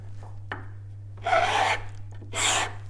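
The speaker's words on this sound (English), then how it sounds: "get yourself a good sanding block" Two bursts of rasping abrasive rubbing, a sanding block scraped back and forth over a block, close and fairly loud over a steady low hum.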